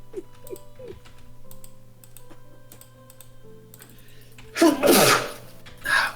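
A single loud sneeze bursts out near the end, over faint keyboard typing and ticking in a quiet room, with a smaller burst following.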